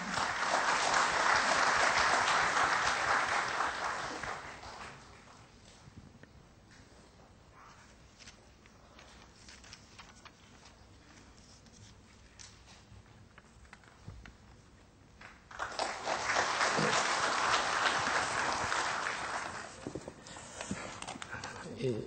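Audience applause at a university award ceremony, a loud burst of clapping at the start that fades, then a quieter stretch before a second round of clapping swells near the end, heard from within the hall.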